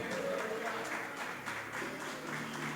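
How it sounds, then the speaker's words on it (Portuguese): A church congregation claps steadily and densely during a sermon, a broad wash of applause filling the whole stretch with no pause. "se você acredita, aplauda o nome do Senhor Jesus Cristo"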